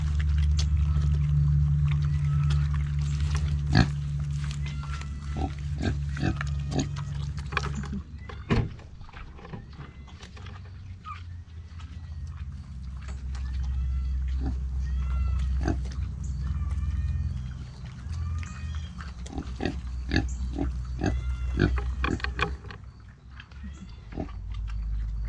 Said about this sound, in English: Cooney Coons are just a sweet pig. A little fat pig.